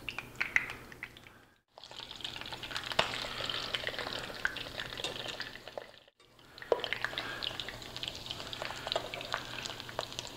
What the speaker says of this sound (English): I had dripped a little water in there. That's what the popping is.